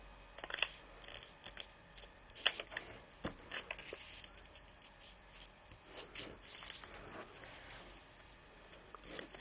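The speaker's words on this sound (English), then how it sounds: "rotate the paper and fold point to point to make a crease on the diagonal" A square of origami paper is folded point to point into a diagonal crease. The sound is faint and close: soft crinkles, rustles and small sharp creasing snaps, with no voices.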